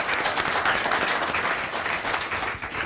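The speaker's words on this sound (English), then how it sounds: "All right, give them a round of applause." Dense, sustained applause from an audience after a startup pitch at a business competition, a steady full wash of many hands clapping throughout, fading slightly at the very end.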